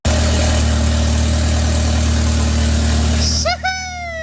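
Hyundai Genesis Coupe engine idling loudly and steadily after being restarted, a constant mid-pitched hum that drops away near the end as rising whistling tones cut in.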